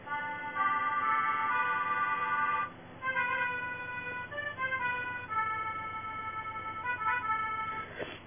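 A melodeon app plays a fast trill between C3 and B2, rapid alternating reedy tones followed by a short run of descending notes, clear and alone without voices.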